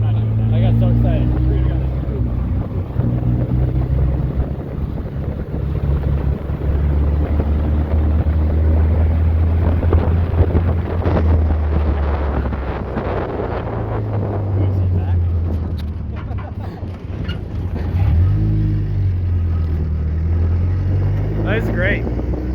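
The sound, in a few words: 1953 Willys CJ3 Jeep engine driving on the highway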